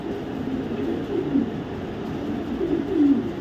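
Racing pigeons in a loft give a low, continuous cooing murmur, moderately loud and close, with no voices over it.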